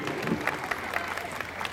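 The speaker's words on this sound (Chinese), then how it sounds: "掌声鼓励。" Audience applause at a New Year's Eve concert in Chaozhou, given to a school children's performance. The clapping is faint, distant and brief.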